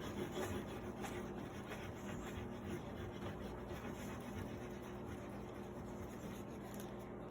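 Black crayon rubbed hard across paper for scratch art, a steady, close, scratchy rasp that goes on without a break.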